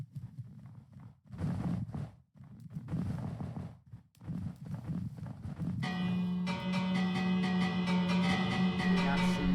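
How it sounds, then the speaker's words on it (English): A bell rings steadily for the last few seconds during an Aquamarine Bay versus Kingdom of New Hyrule match, following irregular thuds and rustling clatter, loud and sustained with a bright ringing tone. "bell ringing going on"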